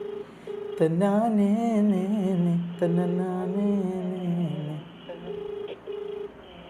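An unanswered phone call plays steady beeping ringback tones at the start and end, with a longer melodic tone passage between them.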